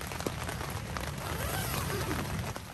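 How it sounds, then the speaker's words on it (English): Rain patters on a tent on an uninhabited island in the early morning, a steady faint pattering with scattered sharper drops close by, no talk. "maybe that rain will come past quickly"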